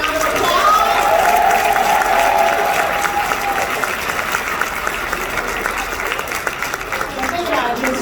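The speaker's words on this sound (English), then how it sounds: "please give our VIP3s another round of applause" An audience at a Crowne Plaza event claps in a dense, steady round of applause that fills the whole stretch, staying loud throughout with a faint tone briefly audible early on.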